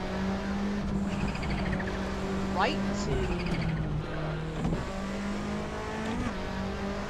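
Rally car engine droning steadily and revving in Assetto Corsa, with rising and falling pitch through corners and a brief tire squeal, while a co-driver calls pace notes over it.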